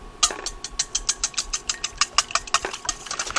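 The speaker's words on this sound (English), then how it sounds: "We're just going to whisk that up." A whisk beating eggs with mayonnaise, Himalayan salt and cracked pepper in a bowl, producing a quick, regular series of close, sharp clinking taps about five or six per second for a few seconds.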